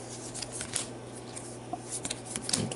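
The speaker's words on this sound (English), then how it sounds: "Shuffled real good." Cards of a Marvel Champions encounter deck are shuffled close by with a quick run of riffles and soft slaps across a couple of seconds, no voices.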